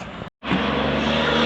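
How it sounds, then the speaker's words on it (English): A truck's engine brake roars in a loud, continuous rumbling blat after a brief cut-off, steady and close throughout the short stretch. "He's Jake braking."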